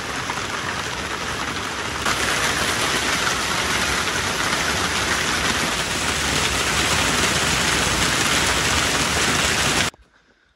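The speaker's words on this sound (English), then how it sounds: "Tropical downpours." Dense, heavy tropical rain roars steadily and loudly for about ten seconds, a thick unbroken hiss that cuts off abruptly at the end.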